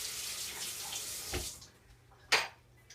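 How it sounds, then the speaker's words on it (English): Running tap water pours over potatoes being drained and rinsed in a kitchen sink, a close steady splashing rush that tapers off, followed by a brief clatter or splash near the end. "I'm draining and rinsing these potatoes"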